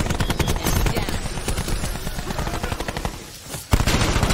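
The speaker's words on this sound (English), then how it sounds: "Teammate, what are you shooting at?" Rapid automatic weapon fire in Call of Duty: Black Ops 4 multiplayer, loud continuous bursts rattling for several seconds before a short lull and a final sharp shot.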